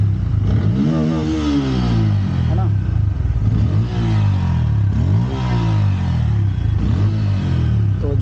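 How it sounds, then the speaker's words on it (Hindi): A Bajaj Pulsar N160 motorcycle with a freshly changed air filter revs repeatedly, each throttle blip rising and falling in a steady rhythm close by, with a brief spoken remark near the end. "तो आइए बाइक की आवाज़ सुनते हैं"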